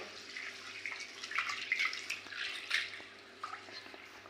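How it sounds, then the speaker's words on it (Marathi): Faint water splashes and swishes in irregular bursts as lentils are rinsed under a running stream, with no talking. "स्वच्छ दोन तीन वेळा पाण्याने स्वच्छ धुवून घेऊन शिजायला ठेवूया"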